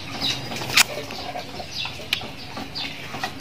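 Bursts of wings flapping, one sharp flurry then a few softer ones, close by over faint outdoor background noise.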